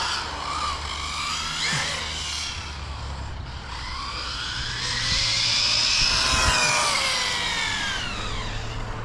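A steady engine drone of a three-wheeled motorbike passing on a road, swelling louder midway and then easing off, with no voices.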